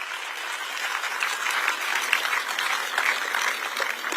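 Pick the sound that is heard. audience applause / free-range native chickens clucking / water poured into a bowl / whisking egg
audience applause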